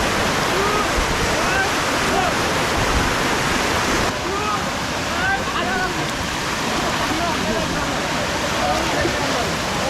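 Kovai Kutralam waterfall pours in a steady, loud, broadband rush with no break, while voices talk and call faintly over the constant roar of the falling water.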